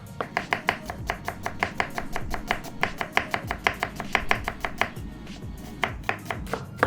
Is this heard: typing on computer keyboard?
no